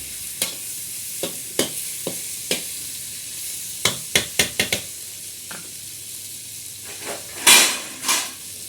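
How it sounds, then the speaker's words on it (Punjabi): Potatoes and cauliflower sabzi are stirred in a pan on a clay stove, with a run of sharp spoon scrapes and clinks against the pan over a soft sizzle, then a couple of louder hissing swirls near the end. "ਚੰਗੀ ਤਰ੍ਹਾਂ ਰਲਾ ਦਿਓ ਆਲੂਆਂ ਨੂੰ ਹਲਕਾ ਜਿਹਾ"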